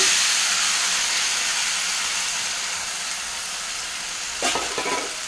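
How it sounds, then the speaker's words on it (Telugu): Dill leaves, also called soya leaves, fry in a pan with mustard seeds, cumin and turmeric. A loud steady hiss of steam and sizzle fades slightly over time, then short scraping stir sounds come near the end. "మిక్స్ చేద్దాం. ఇది పచ్చివాసన మొత్తం పోయేంత వరకు ఫ్రై చేసుకుందాం అండి."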